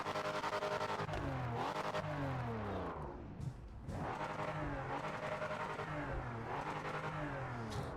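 A Porsche 911 engine revs in the Project Motor Racing game as the car races, climbing and dropping through repeated gear shifts in a steady, loud, buzzy drone, with a brief dip between pulls.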